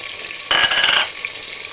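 Whole spices (dried red chillies, bay leaves, cinnamon and cardamom) hit hot oil in a sudden burst of sizzling that fades within about half a second, close up, before a quieter background resumes.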